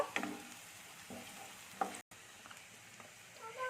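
Eggplant frying in oil with turmeric and chili powder for Bengali begun vorta, a soft, faint sizzle broken by a few metallic clinks and stirring scrapes.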